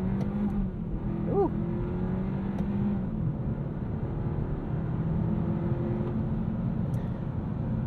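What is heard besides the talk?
car engine accelerating hard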